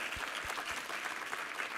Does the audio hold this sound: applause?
yes